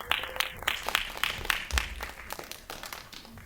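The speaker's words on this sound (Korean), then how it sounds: "박수 좀 부탁드리겠습니다." Audience applause welcoming director Park So-young at a screening Q&A for the knitting documentary, a steady wash of scattered clapping at moderate distance with a few sharper individual claps.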